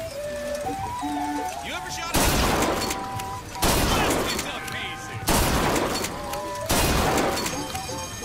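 Shotgun blasts in the video game Bioshock Infinite, four loud broadband bursts spaced about one and a half seconds apart, each with a sharp crack that decays into a noisy tail over steady game ambience.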